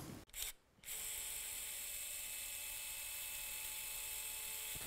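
A high-pitched surgical drill whirs steadily into bone after a brief stop-start, a constant mechanical whine with no talking.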